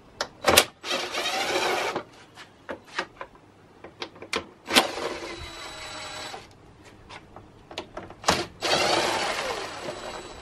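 Four T20 screws come out of the front intake section of a BMW N52 engine, heard as several separate bursts of close, whining power-driver motor with sharp clicks and clacks between them.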